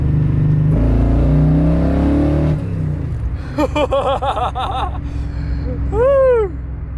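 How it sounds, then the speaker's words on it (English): A muscle truck with Holley Sniper EFI pulls hard in second gear, a loud close engine roar climbing in pitch then easing off, followed by laughter and excited voices inside the cab. "let's do a second gear rip right here real quick"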